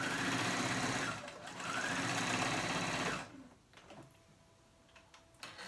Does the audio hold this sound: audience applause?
no